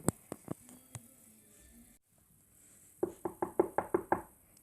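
Someone knocks on a door as guests arrive at a new home: a few scattered taps, then a quick, loud run of about eight knuckle raps close by.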